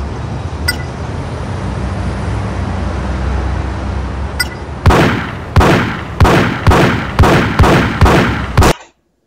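Seven sharp gunshots crack out in quick succession in the open-world crime game GTA Chinatown Wars, loud and close, following several seconds of steady low ambient rumble with no one talking.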